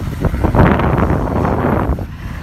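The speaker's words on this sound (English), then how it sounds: "Oh, still really windy. The wind haven't even calmed down." Strong Hurricane Matthew wind gusts buffet the microphone, producing loud, fluttering low rumbles that swell and ease over a couple of seconds.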